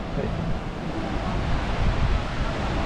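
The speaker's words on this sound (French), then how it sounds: "Nous sommes en haut de la cascade," Waterfall in Bali heard from the top of the falls, a dense, loud, continuous roar of falling water mixed with wind buffeting the microphone.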